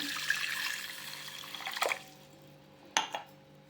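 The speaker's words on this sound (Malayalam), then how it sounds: "ഇതിലേക്ക് ഒരു ഗ്ലാസ് വെള്ളം ഒഴിക്കുക" A glass of water is poured over hibiscus flowers in a pot, a brief close splash and gurgle that fades, followed by a couple of small drips and knocks.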